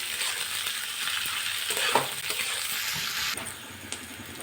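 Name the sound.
chopped onions frying in oil in a pan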